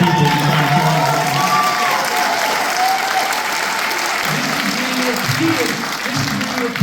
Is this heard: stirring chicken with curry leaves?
no